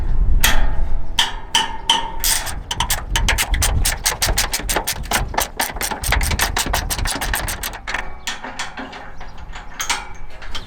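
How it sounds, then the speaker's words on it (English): A regular wrench working a bolt loose on a MacDon FD2 header, rapid metallic ratcheting clicks in a fast steady run that thins out toward the end, close over a low mechanical background rumble. "I'm going to have to use a regular wrench to take this one off first"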